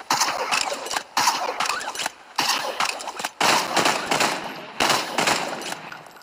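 Gunfire bursts in the Fortnite video game, several broad noisy volleys separated by short gaps, loud and close with a steady high hum underneath.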